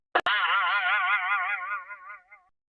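Classic Hanna-Barbera cartoon boing effect: a quick click, then one springy wobbling twang with rapid vibrato that warbles and fades out over about two seconds.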